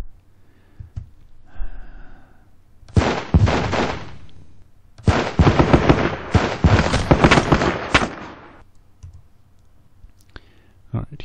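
Gunfire from a recoilless rifle in a combat video game, with loud dense bursts of shots and blasts in two long volleys after a quieter opening with some faint sounds, then tapering off.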